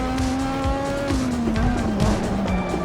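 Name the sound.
race car spinning out, tyres squealing, Assetto Corsa video game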